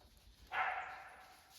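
A single sharp bark from a dog in the backwoods, fairly faint and a short distance off, rising out of quiet outdoor background.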